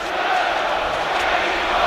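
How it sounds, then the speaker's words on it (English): Leicester City fans at an FA Cup match against Birmingham City applaud Jamie Vardy, a broad steady wash of crowd noise and clapping from a distance, sustained and even. "So Jamie Vardy getting a hero's applause from the Leicester fans."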